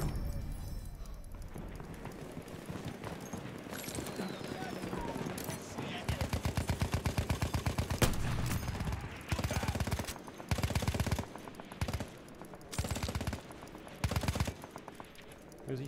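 Battlefield 1 multiplayer gunfire, rapid automatic bursts repeating in several loud strings with short gaps, close and dense, over busy battlefield noise and voices.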